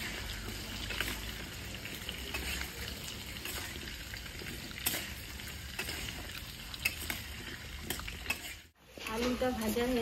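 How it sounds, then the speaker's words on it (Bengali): Potatoes frying in a pan for a rustic village-style fish curry, a steady hiss and sizzle with scraping stirs throughout, close up, briefly cutting out near the end. "আলুগুলো একটু ভেজে দেবো।"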